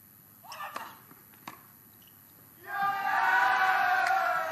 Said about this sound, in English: you can hear the cheer of the crowd right now